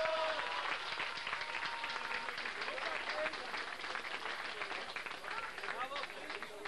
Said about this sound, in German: glaube ich, einen Applaus einmal verdient.